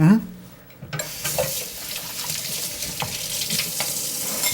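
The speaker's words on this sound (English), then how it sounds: "I'll wash my hands" Water runs from a kitchen tap over hands being washed at a sink. The hiss is steady and close and starts abruptly after a brief voice at the start.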